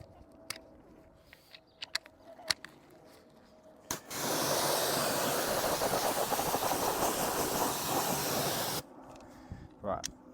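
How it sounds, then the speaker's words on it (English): Pressure washer with a turbo nozzle rinsing a car's wheel arches: after quiet handling clicks, a loud, dense spray hiss bursts in close and runs steadily for about five seconds, then cuts off abruptly. "So, turbo nozzle first to rinse down the arches."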